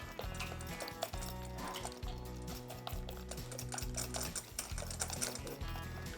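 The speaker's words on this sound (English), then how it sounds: "we're going to want to mix that up really good" Strawberry banana bread batter being mixed, with a repeated rhythmic churning thump of steady regular strokes, close and fairly quiet.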